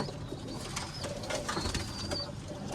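Male pigeons coo in short, low, murmuring phrases, faint and somewhat distant against a steady background hiss.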